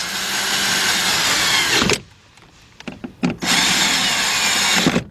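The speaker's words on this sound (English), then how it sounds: "Next thing we're going to do is go ahead and tighten up these bolts." A power tool runs loud and steady, tightening the bolts on a window motor inside the door of a 2011-2014 Mazda 2. It stops briefly for a quiet gap with a few short bursts, then keeps running.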